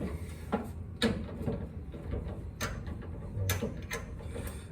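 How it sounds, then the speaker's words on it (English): Ratchet wrench fitted with a 3/8 socket loosening a pair of bolts, giving a few sharp metallic clicks and scattered ratcheting bursts, close up with no talking. "we got 3/8 socket here. We got to loosen these two."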